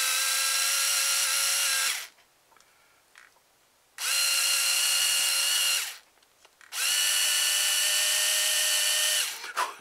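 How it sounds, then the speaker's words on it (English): A power drill whirs loudly in three long bursts, each a few seconds of high-pitched spinning, separated by short quiet pauses. "We're going to drill our holes in this."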